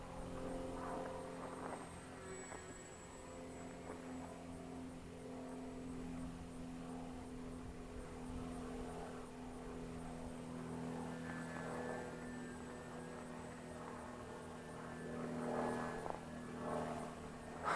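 A brushless-converted Eachine Mini P47 RC plane flies through an Immelmann, its faint electric motor whining and shifting in pitch against steady background noise, with no talk.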